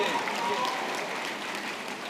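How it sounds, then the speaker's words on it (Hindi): An audience at a political speech in Malegaon bursts into a steady wash of clapping that lasts about two seconds, moderately faint and fairly even, with no talking over it. "ताली बजाकर स्वागत कीजिए।"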